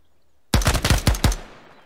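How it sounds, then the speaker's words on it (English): HK416 rifle firing without a suppressor in the Ground Branch video game: a sharp, loud burst of about six rapid shots after a brief quiet lead-in, ending in a short decaying echo. "The gun is loud. There's no suppressor."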